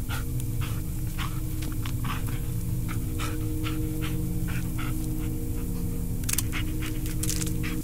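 A dog in the Blair Witch video game pants in a quick, steady rhythm throughout, close and continuous over a low droning game ambience.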